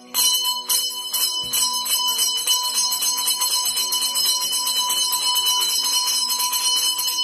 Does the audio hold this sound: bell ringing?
yes